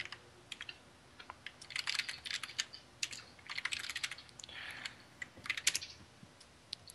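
Quick bursts of computer keyboard typing while entering a command during a Minecraft session, clusters of close, crisp key clicks with short pauses between them, no speech.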